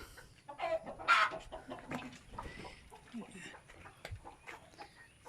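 Pet hens clucking in short, busy bursts beside their nests, with a person talking over and between the calls.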